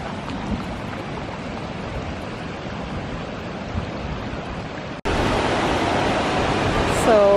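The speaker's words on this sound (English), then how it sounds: "So the river is flowing much more than normal, apparently." A swollen mountain river in Idaho, running high with snowmelt, roars as a steady, dense rush of water that jumps abruptly louder partway through and continues unbroken.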